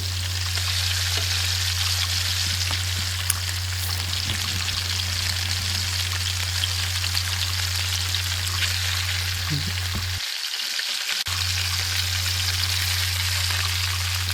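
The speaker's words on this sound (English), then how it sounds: "Continuing browning on each side." Oxtails brown in a pan with seasonings and roux, giving a steady, even sizzle and crackle that lasts the whole stretch with scattered pops.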